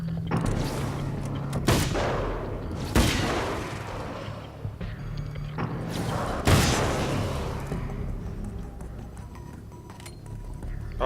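Gunshots ring out in the video game Alan Wake's American Nightmare, with about three loud, sharp reports spaced a few seconds apart over a low rumbling game backdrop.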